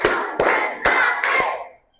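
A classroom clap chant with four loud, sharp hand claps in an even rhythm, close by, fading out at the end.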